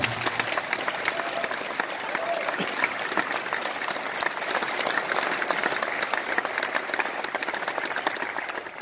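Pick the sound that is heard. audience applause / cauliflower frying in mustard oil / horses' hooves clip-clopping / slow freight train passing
audience applause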